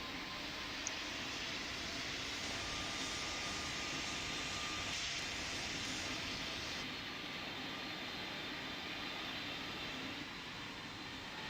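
Airplane going around in the video game Pilot Training Flight Simulator, a continuous jet engine roar with rushing broadband noise, slightly shifting in tone midway, steady and close, no voices.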